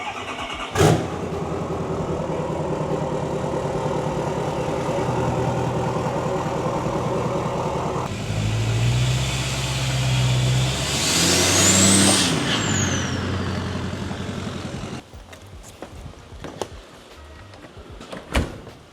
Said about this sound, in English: I'll give you guys a remote start with the truck, because who doesn't love just awesome truck noises?